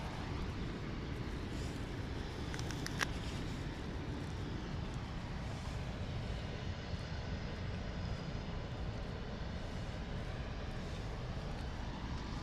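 An EasyJet Airbus A319 arriving from Paris on final approach to London Luton Airport, at just under 2,300 feet, sends a steady, distant jet roar that holds evenly with no talking.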